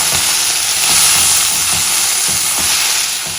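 Fresh coriander sizzles steadily in a pan over medium flame while green chilli thecha cooks, with a bright, continuous hiss and occasional soft stirring knocks underneath, close and loud, with no voices.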